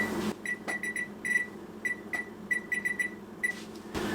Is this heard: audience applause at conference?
no